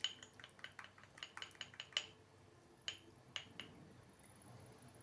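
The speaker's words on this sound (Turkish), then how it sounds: "Yumurta sarımı karıştırıyorum önce" A utensil stirs egg yolk in a bowl, a quick run of light clinks and taps against the dish, then a few spaced knocks before it fades to quiet; faint and close, nobody talking.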